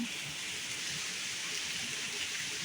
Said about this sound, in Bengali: আর দেখো বৃষ্টি শুরু হয়েছে